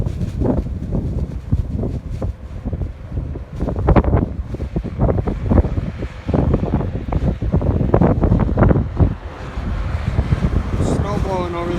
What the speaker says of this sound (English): Snow blowing over there right now.